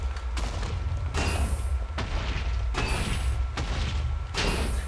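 Repeated explosions in Minecraft Skyfactory 3 killing withers, a series of loud broadband blasts roughly every second with sustained low rumble throughout, alone without talk.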